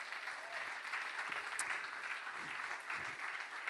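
A crowd at an evening gathering applauds Michael with continuous clapping, faint and somewhat distant, holding at an even level throughout.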